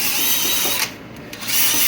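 Scuffing a saddle gullet cover, heard as a continuous harsh abrasive rasp up close, dipping briefly in the middle before resuming.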